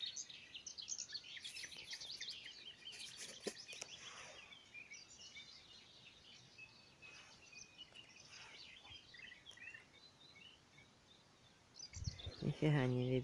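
Small birds twitter faintly at a riverbank while fishing, scattered high chirps drifting in and out over a soft outdoor hush, with a louder, closer call near the end.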